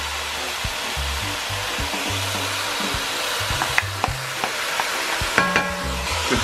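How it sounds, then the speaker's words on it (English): Beef chili with crushed tomatoes sizzles in a pan, stirred with repeated scraping and knocking strokes over a steady hissing fry. "Cooking out with tomato sauce."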